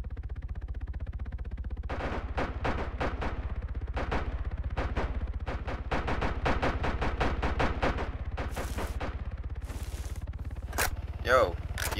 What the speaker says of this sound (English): guys taking heavy fire.